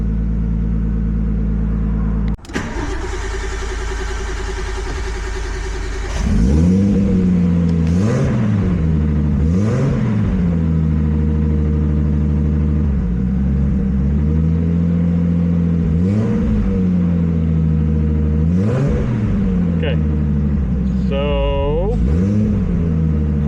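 Nissan Skyline R32 GTS-T engine with trigger and cam sensor issues, cranking and catching, then idling roughly with repeated short throttle blips rising and falling; close, loud and steady, with a brief whine near the end.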